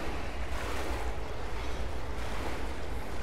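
Swimming through water in Rise of the Tomb Raider inside the Bath House Tomb, a steady broadband wash of water and surf-like rushing that holds at an even loudness throughout, with no voices.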